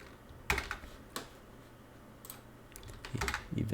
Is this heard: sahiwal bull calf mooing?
no